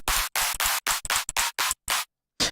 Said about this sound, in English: You've got 10 claps.